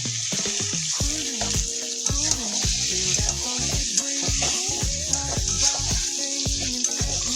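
Soybean chunks and potatoes sizzle steadily in a pan while being stir-fried, with a constant hiss of frying and repeated sharp scraping stirs close by.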